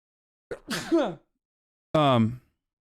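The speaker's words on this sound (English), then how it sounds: "Hold on, I gotta sneeze." A single sneeze with a sharp intake of breath, followed by a short exhale, close and loud with silence around it.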